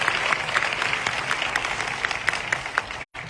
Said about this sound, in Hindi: वो तालियां इन सभी दोस्तों के लिए होनी चाहिए